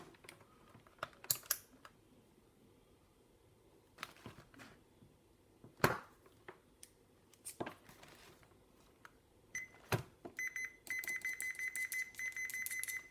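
A Fluke multimeter beeps continuously on a continuity test through its test leads, a sustained electronic tone in the final seconds, preceded by scattered clicks and handling knocks of the leads and probes.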